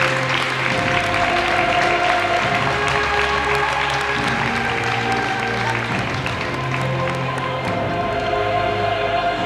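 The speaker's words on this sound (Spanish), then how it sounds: "Fortísimo aplauso para todas ellas." Spectators applaud the girls' team at the SD Hispania squad presentation, with sustained clapping and some cheering over a steady musical backing, continuing evenly for the whole stretch.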